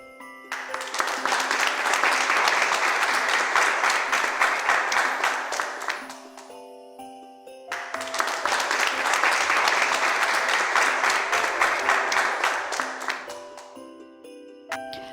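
Applause in the Nutcracker tale, two long bursts of dense clapping mixed with light tinkling chimes and a soft musical drone, each swelling and fading before a short pause.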